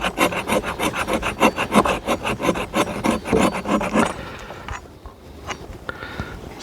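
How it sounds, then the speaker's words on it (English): The spine of a BeaverCraft KKR1 knife scrapes very waxy fatwood in quick, rhythmic rasping strokes, loud and close for about four seconds, then the scraping stops and only faint handling noises remain. "Let's see if it'll scrape."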